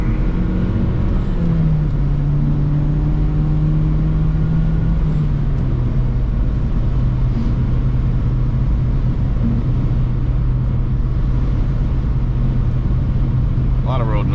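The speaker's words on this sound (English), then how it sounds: "A lot of road noise though." Steady road noise and engine drone fill the cabin of a Mazdaspeed 6 on the move, a loud continuous low rumble with a held engine tone, and someone talks over it.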